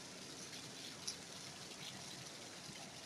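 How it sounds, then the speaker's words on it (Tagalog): Heavy rain falls steadily, a dense and even hiss with a faint patter of drops throughout and no voices. "grabe ang ulan ngayon, guys"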